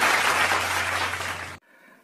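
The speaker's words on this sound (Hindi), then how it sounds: "तो जोरदार तालियों से भाई कमलकांत तिवारी।" Loud, dense audience applause welcomes a Hindi poet, Kamalkant Tiwari, at a poetry recitation, a thick wash of clapping that fades slightly and then cuts off, leaving faint room noise.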